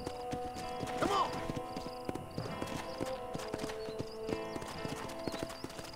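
Loud rhythmic clip-clop of horse hooves in the Western video game Red Dead Redemption, with a brief neigh near the start and a faint game music bed beneath.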